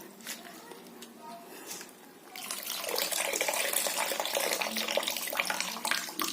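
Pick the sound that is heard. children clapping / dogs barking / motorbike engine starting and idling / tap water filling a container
tap water filling a container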